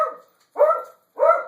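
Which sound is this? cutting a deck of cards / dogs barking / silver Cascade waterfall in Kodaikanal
dogs barking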